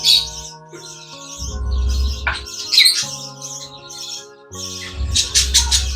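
Baby budgerigars in a cage chirp and squawk continuously, close and fairly loud, with overlapping high tweets and harsher calls.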